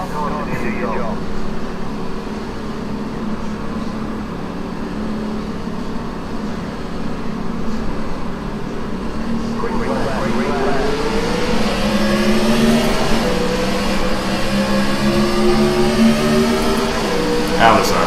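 NASCAR Gen 4 Cup race car engine droning loudly in iRacing at Dover Motor Speedway, a sustained tone that climbs in pitch as the car accelerates, with someone talking over it.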